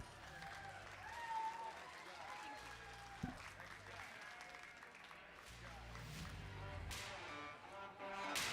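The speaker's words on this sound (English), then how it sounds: "Nice big round of applause." Applause from the crowd at a youth livestock show for lambs, a steady spread of clapping with people talking and background noise of the show arena.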